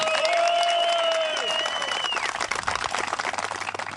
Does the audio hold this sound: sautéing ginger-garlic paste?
no